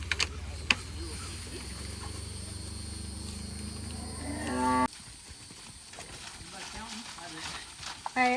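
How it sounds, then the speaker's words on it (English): Calves and cattle mill about in a pen at a busy cattle market, with low lowing and livestock shuffling under steady background noise and someone talking nearby. "So there's a lot of calves in here"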